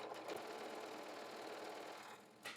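Sewing machine running a line of stitching on a skirt facing, a quiet close whirring hum with brief stops and restarts at the edges, no talking.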